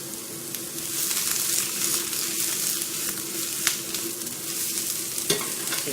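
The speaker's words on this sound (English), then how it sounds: "I'll give our cauliflower a flip here" Cauliflower fries on high heat in a pan, a steady hiss of sizzling with light clatter as the pieces are flipped, close and continuous with no talking.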